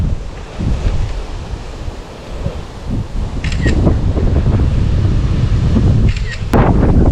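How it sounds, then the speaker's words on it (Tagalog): Strong wind on the summit of Mount Parawagan in the Philippines roars steadily and loudly across the microphone, a constant buffeting rush with gusts building toward the end; faint voices are buried underneath. "Lakas lang ng hangin ngayon."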